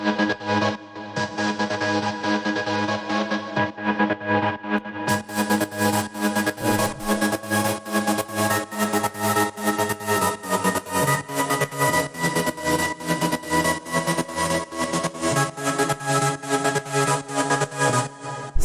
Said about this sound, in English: All that's going on is just like a basic transgating thing here.